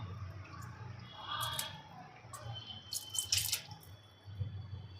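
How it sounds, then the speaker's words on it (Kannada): Water being poured into a mixer jar while making bhindi butter masala gravy, with soft splashing and trickling in short bursts, close and fairly quiet, no talking. "ಮಿಕ್ಸಿಲಿ ನಾವು ತೊಳೆದು ಇಟ್ಕೊಂಡಿರೋ ಅಂಥ ನೀರನ್ನ ಆ್ಯಡ್ ಮಾಡ್ತಾ ಹೋಗ್ತೀನಿ."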